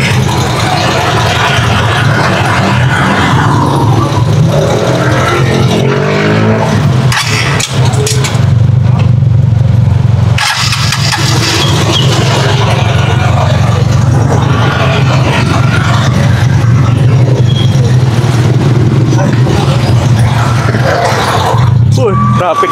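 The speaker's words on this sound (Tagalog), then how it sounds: "Traffic guys, traffic." Busy diversion road traffic in Tuguegarao during heavy rain, cars and motorcycles idling and revving close by, a loud steady engine rumble with passing surges throughout.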